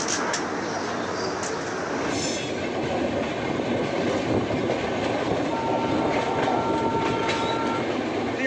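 The Saraighat Express leaves Kamakhya station and is heard from inside a sleeper-class coach as a constant, loud rolling rumble with wheel clatter and faint squeals, with no voices.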